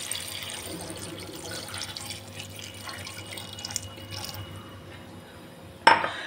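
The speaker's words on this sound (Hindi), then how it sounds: "अब इसमें डलेगा पानी इसको बॉईल करने के लिए।" Water pours into a pot of chopped vegetables for pav bhaji before boiling, a soft steady splashing and trickling that runs for several seconds, ending with a sharp clank of the pot.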